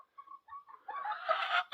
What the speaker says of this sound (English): There's a chicken back there.